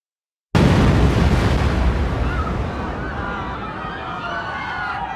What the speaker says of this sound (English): 12 minutes later, the bomb went off.